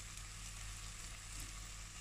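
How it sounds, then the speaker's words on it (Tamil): Boiled mutton frying with masala in a pan while being stirred for a Tamil-style mutton biryani, giving a steady, close, quiet sizzle with no talk over it. "போட்டுட்டு ஒரு பரட்டு பரட்டி விடலாம் அந்த மசாலாவோட."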